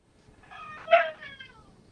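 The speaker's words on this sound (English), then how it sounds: "Did you hear the cock-a-doodle-doo there?" A single rooster crows a drawn-out, rising then falling cock-a-doodle-doo, fairly distant and clear against a quiet background.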